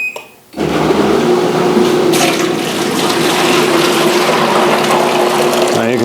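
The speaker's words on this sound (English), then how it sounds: "Now you can see the pump is running and it's discharging the water." A Whirlpool Cabrio washer drain pump starts after a brief quiet moment, then runs loudly and steadily with a mechanical whir and rushing, gurgling water as it discharges.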